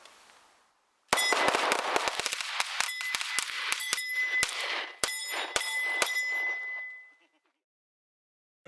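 Gunshots fired in the Southern California desert ring out as a quick volley of sharp, loud cracks followed by a few spaced shots, each leaving a metallic ringing tail that fades out.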